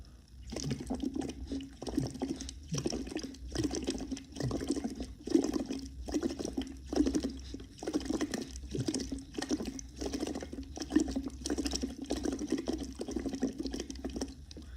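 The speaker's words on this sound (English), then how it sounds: "we're going to try it in the bottle so it doesn't splash out." Water is poured into a bottle in a steady series of short splashing gurgles, close and alone with no talking.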